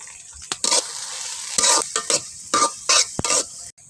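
Onions and green chilies hit hot oil in a pan with bay leaves and cardamom, giving a steady sizzle broken by bursts of stirring and scraping, close and fairly loud, with no voices.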